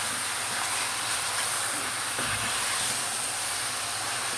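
Beef pieces for kavurma hit a very hot pan, giving a loud, steady broadband sizzle and hiss that fills the whole stretch, with a brief low thump partway through.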